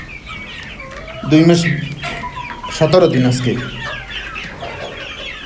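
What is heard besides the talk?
desi chickens clucking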